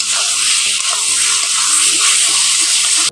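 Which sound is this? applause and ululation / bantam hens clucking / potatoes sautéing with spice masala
potatoes sautéing with spice masala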